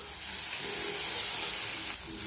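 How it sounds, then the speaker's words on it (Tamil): Sliced onions sizzle in hot oil in a pan, joined by a paste of ground garlic, dried red chillies and tomato, a steady close frying hiss with no talk. "வெங்காயம் லைட்டாக சாட்டே ஆனோடனே இது கூட அந்த பேஸ்ட் நம்ம அரைச்சோல்ல"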